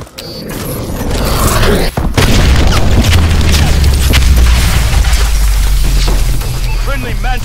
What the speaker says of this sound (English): Friendly missile strikes inbound.